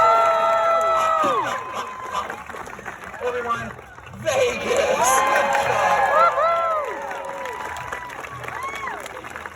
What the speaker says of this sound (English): we have to do this until everyone applauds